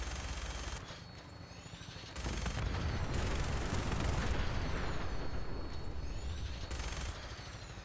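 Fallout 4 gunfire in a modded survival game, a sustained barrage of rumbling shots and blasts that swells after a brief lull and keeps rolling, moderately loud with no talk.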